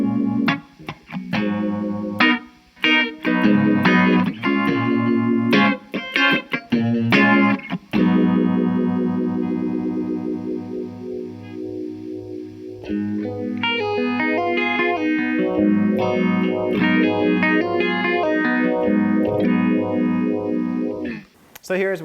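An electric guitar played through a Tortuga Effects Standard Issue Phaser set to low depth and high rate gives a fast, shallow swirling shimmer over chords and single-note runs, sustained and close for over twenty seconds without talk.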